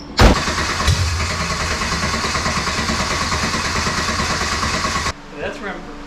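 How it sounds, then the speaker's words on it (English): A fuel-injected 2.3 Ford Pinto engine cranks hard for about five seconds in a loud, steady churning burst, then cuts off abruptly, leaving quieter shop sounds and faint activity behind. "Why does it kick off, you know, and sound like it wants to start, and then it just doesn't?"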